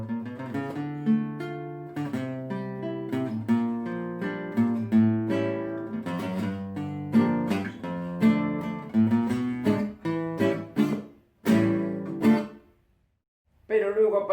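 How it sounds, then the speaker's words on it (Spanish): A Spanish acoustic guitar, also called a criolla, plays a clear melodic passage of plucked notes and strummed chords, close and fairly loud, with a brief pause near the end before the playing resumes. "Esta guitarra se llama española o también se le dice criolla."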